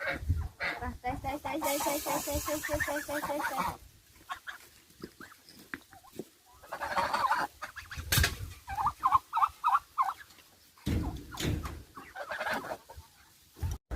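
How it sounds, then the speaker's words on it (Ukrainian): Turkeys fighting, gobbling and squabbling nearby in bursts in cold weather, with rustling, flapping scuffles and clucking between the calls; no talking. "Індики б'ються."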